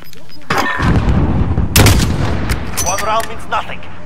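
An SMG fires in a multiplayer shooter video game in sharp, loud bursts of shots, mixed with other game effects and brief voice sounds.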